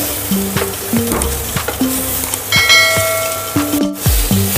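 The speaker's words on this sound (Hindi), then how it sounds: "अब इसमें डालेंगे मसाले वाले तुरई और अब इसे मीडियम फ्लेम पे 3 से 4 मिनट फ्राई कर लेंगे।" Spiced ridge gourd (turai) frying in oil in a pan over a medium flame, a steady close sizzle with scattered clinks of a metal spoon against the pan and brief ringing tones.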